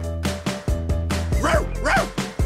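Several high-pitched yaps from a toy dog come in a quick, uneven series, loud and close, with a couple of whiny, whimpering calls mixed in partway through.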